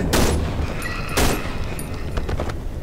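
Enemy gunfire in the horror game Cry of Fear: a couple of loud, sharp shots with echoing tails, followed by fainter rapid cracks over a constant rumbling game backdrop.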